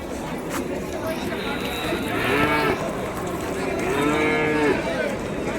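Cattle, including bulls and heifer calves, low and moo repeatedly at the Vaniyambadi livestock market in Tamil Nadu, India, long drawn-out calls rising over a busy background of crowd chatter and movement at close to moderate distance.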